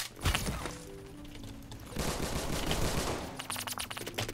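Rapid automatic gunfire in the Phantom Forces video game: bursts of shots with heavy crackling fusillades and thuds, loud and continuous with brief gaps, no talking.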